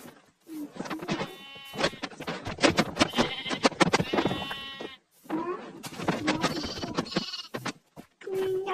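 Sheep bleat repeatedly at close range on a farm, the calls loud and overlapping in bursts with brief pauses between them.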